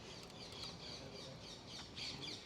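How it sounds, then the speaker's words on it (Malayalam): Parrots calling as they fly to roost, a steady bustle of squawks and chirps at a moderate distance with broad noisy background, no voices. "തത്തകൾ കൂട്ടി കയറാൻ വേണ്ടി പോകുന്നത് അതിൻ്റെ ഒരു ബഹളം"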